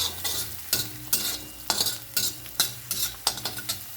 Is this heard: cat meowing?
no